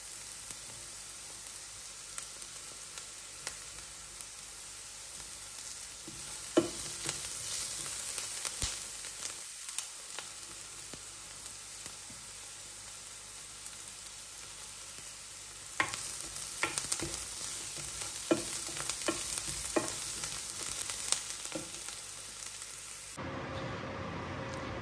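Onions fry in a pan for palak paneer, a steady sizzle with repeated scraping stirs of a utensil through the pan, close and continuous, with a brief quieter gap midway.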